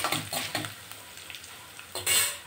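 Curry leaves and dried red chilies frying in a hot pan for a leftover-rice dish: crackling sizzle with a few scraping stirs of a spoon against the pan, ending in a louder burst of spitting oil.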